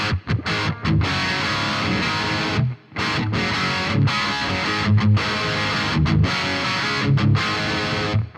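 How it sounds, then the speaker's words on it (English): Electric guitar through a Marshall Silver Jubilee amp with plate reverb, playing a tricky riff in a clean crunch tone with no other effects; loud, steady chords with brief gaps and stops, no voice. "That's the amp tone there, of course,"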